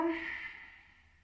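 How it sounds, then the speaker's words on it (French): A single deep, slow breath during a yoga stretch, a soft sighing exhale that fades gradually, close and quiet with no talking. "Je respire profondément."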